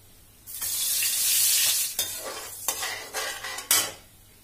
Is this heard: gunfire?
no